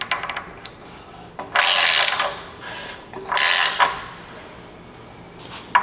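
Ratcheting clicks from a wrench tightening a bolt to draw a pulley down on a Datsun 520 engine, heard in two close, loud bursts with quieter mechanical clicks between them.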